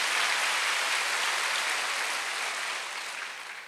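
A church congregation claps their hands, a dense, even wash of applause with no distinct individual claps, steady and moderately loud, easing off slightly near the end.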